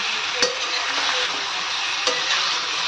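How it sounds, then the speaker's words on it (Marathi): Country chicken sautéing with garlic in a pan over low gas, giving a steady, loud sizzle throughout with a couple of sharp stirring clinks from the utensil against the pan. "गॅस बारीक करायचा आणि याला परतून घ्यायचं।"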